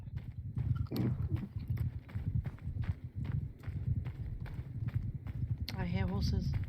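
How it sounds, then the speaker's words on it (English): Rhythmic clip-clop of horses galloping in a video game, steady hoofbeats throughout with people talking over them and a short horse whinny near the end. "I hear horses."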